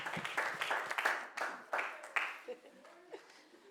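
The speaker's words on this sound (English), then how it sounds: "Big round of applause." Sparse, scattered clapping from a small group at an award gala, a few separate bursts that thin out and fade toward the end.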